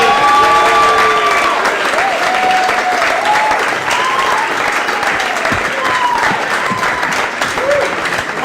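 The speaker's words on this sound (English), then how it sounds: "start clapping up for Big Izzy" Comedy club audience at Gotham Comedy Club claps steadily for several seconds, a dense, loud wash of applause with scattered whoops and voices rising above it.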